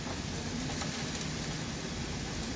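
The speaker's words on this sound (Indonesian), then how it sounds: "sekarang hujannya agak membesar ditambah angin yang" Heavy rain and gusting wind in Hong Kong make a steady, even hiss of falling water. It is faint and unbroken, with no voices.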